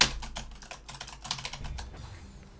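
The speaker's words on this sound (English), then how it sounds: "I hit the keys really hard, and it is just a clicky keyboard" Rapid, hard keystrokes on a clicky computer keyboard, a dense burst of sharp close-up clacks for about two seconds before trailing off, with no speech over it.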